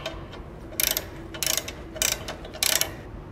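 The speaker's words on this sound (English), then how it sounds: "we can now tighten our mounting bolts." Mounting bolts on a PT Max belt trainer bracket being tightened with a ratchet: four short bursts of rapid metallic clicking, close and fairly loud, with brief pauses between them over a steady low hum.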